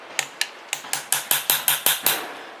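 A hammer taps a metal locking tab flat against the big hub-retaining nut of a three-blade Flexofold boat propeller, giving about ten sharp, evenly spaced metallic strikes, close and clear, with no talk.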